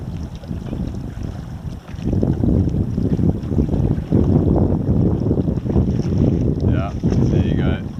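Steady wind rushes across the microphone on a sailboat at sea, growing louder after two seconds and buffeting continuously, with faint voices under the gusts near the end.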